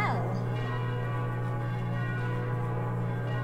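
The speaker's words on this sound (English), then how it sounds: "What's that bell?" A church bell tolls in the Koudelka video game, one ringing strike at the start whose bright, humming tone then sustains and slowly fades over a low steady drone for several seconds, with no voices present.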